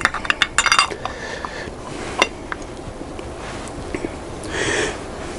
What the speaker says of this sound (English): And placing the carburetor bowl back onto the carburetor.